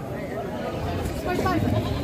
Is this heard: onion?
no